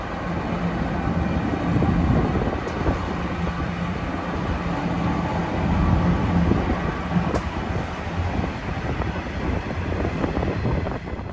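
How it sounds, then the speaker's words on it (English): A UGL Rail C44ac1 diesel locomotive leading a One Rail freight train on the Hunter Line at Sandgate station, a steady broad rumble of engine and rolling wagons with wind buffeting the microphone, continuous and fairly loud. "Genesee and Wyoming, which have recently become One Rail, are another operator of the UGL Rail C44ac1 locomotive"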